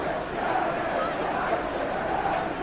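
Simulated stadium crowd in the PES 21 football game during a Premier League match between Manchester United and Everton, a constant dense roar of fans at steady loudness throughout, with the commentator's voice mixed into the crowd noise.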